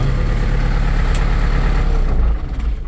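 A 50 hp Dnipropetrovsk Tractor Plant tractor engine idles nearby with a loud, steady low rumble that shifts and drops slightly near the end as it shuts off.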